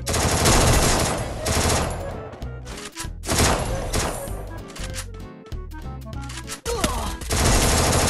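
Rapid bursts of automatic gunfire ring out in the battle-royale game Free Fire, loud and close with short pauses between volleys, a player talking softly underneath.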